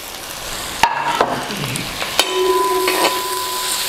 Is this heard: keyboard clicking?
no